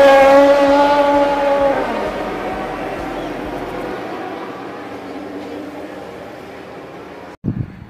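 A cheap toy cartoon car gives off a buzzy, whirring motor whine that fades and falls in pitch over several seconds, ending in a brief clatter.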